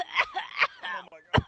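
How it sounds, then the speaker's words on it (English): Forced coughs from a man in a roleplay game scene, several short harsh bursts close to the microphone, ending with one sharp heavier cough. "Give me a big cough in 3"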